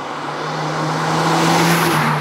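A 2022 Kia ProCeed GT facelift with a sport-tuned rear exhaust gives a loud, steady, rumbling drone that swells slightly as it holds, close and with no talk over it.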